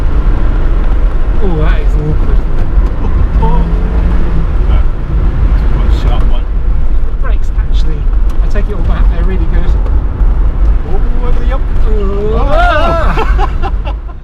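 A 29-year-old 1980s Audi Quattro on the move, its engine and road noise a loud, constant roar, with wind buffeting and people talking over it throughout.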